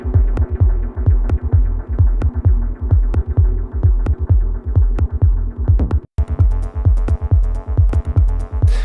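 Electronic music track with steady throbbing kick pulses, sustained long notes and a reverb-washed ambient pad, playing loud and continuous with a brief dropout near the end.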